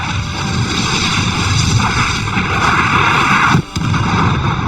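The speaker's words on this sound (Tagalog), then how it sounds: "At sumabog nga ito" A loud, sustained roaring blast from an animated explosion fills the scene, with a brief dip near the end before the rumble resumes.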